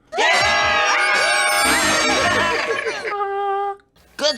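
A crowd screams and cheers loudly and continuously for about three seconds, with overlapping shouts and whoops, then a single sustained tone carries on briefly before a short final burst.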